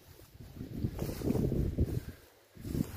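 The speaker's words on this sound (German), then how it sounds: "Wie man hört, heute auch ordentlich Wind." Strong outdoor wind gusts buffet the microphone in swelling, uneven rushes, rising and falling over a few seconds before dropping to a lull and surging again.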